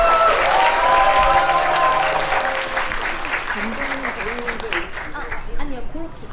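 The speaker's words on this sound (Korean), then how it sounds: "다시 박수" Audience applause greets a film director and two actresses arriving for a post-screening talk event, steady and loud throughout with overlapping voices and cheers in the crowd.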